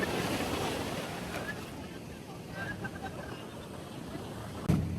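Strong ocean surf on a Zambales beach gives a continuous, rumbling wash, with wind buffeting the microphone. No one speaks.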